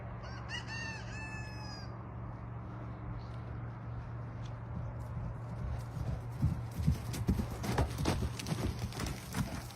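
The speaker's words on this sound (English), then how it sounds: "The horse is 4 times the size of the emu," A horse's hooves clip-clop on a farm, the clustered knocks growing louder toward the end, after a rooster crows near the start over a low steady hum.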